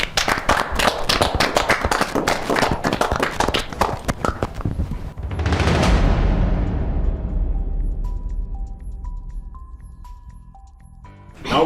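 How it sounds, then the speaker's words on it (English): A studio audience claps for game-show contestants heading backstage, sharp individual claps at first that give way to a loud swell of noise, followed by a short electronic jingle. "A round of applause for them as they go"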